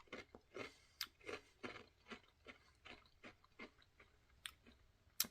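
Someone crunches on thin, light ginger cookies, producing a quick series of close, crisp bites and chews with irregular rhythm, quiet and without talking.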